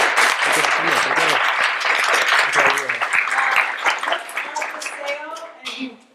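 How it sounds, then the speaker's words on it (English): Audience applause after a poetry reading at a center for African American poetry, made up of brisk, dense clapping close by. Voices talk over it and the clapping thins out toward the end. "One more round of applause, please."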